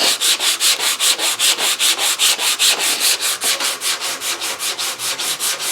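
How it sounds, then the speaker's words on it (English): Sandpaper held slightly curved rubs back and forth along a wooden guitar neck during a one-piece guitar build, a steady rhythmic scratching of about thirty even strokes, close and loud with no talk. "I'm going to take my sandpaper again, and with it slightly curved, and I'm going to come in here and do the exact same thing"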